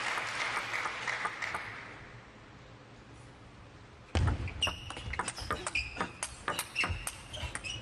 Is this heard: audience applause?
yes